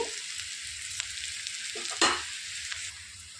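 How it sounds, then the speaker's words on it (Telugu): Chopped green chillies frying gently in oil over a slow flame, a soft continuous hiss with a few spatula taps and one brief louder stir, close and without talk. "స్లో ఫ్లేమ్లో మంచిగా వేయించుకోవాలండి."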